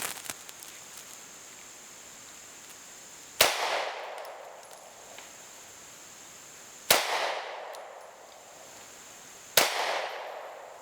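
A Taurus GX4 XL pistol fires 115 grain Gecko ammo at an outdoor range, three sharp, loud reports spaced several seconds apart, each trailing into a fading echo.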